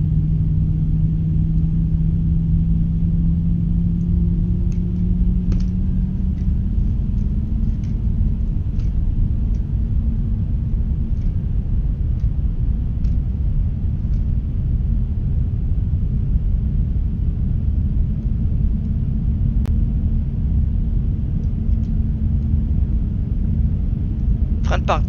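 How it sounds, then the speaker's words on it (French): Deep steady jet engine rumble with a rising whine as an Airbus A321neo engine spools up in Microsoft Flight Simulator, continuous and heavy, with faint clicks over it. "le moteur numéro 1 a démarré, le numéro 2 va en faire autant."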